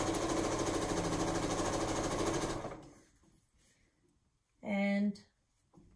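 A sewing machine stitching binding onto a quilt runs in a loud, steady rapid whir for a couple of seconds, then stops; a brief voice follows.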